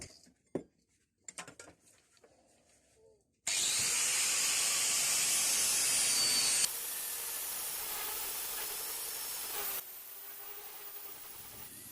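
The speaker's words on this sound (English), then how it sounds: "I shall run down it very quickly with an angle grinder with a 40 grit flap disc on" An angle grinder fitted with a 40 grit flap disc grinds along a section of railroad track, producing a loud steady abrasive whine after a few quiet clanks, with the tone shifting in distinct passes before it drops off.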